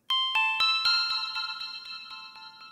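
Valhalla Supermassive plugin on eighth-note delay: a bright chiming tone repeats in evenly spaced echoes, about eight repeats at a steady rhythm, slowly fading with a shimmering, slightly wavering modulated tail.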